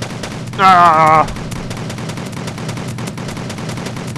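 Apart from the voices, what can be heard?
weapon firing in the video game Kerbal Space Program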